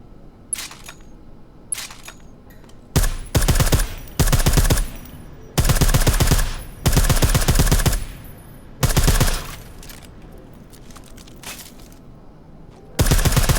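Suppressed gunfire in the video game Deus Ex: Mankind Divided, loud bursts of rapid muffled shots in several strings of about a second each, separated by short pauses, with a few quieter single pops at the start.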